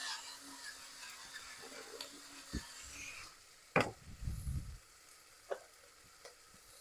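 Oregano and pepper being stirred into a sizzling pan, heard as soft scraping and a brief, busier rustle of stirring over a quiet, steady fry.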